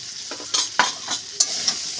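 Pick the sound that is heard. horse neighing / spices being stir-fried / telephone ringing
spices being stir-fried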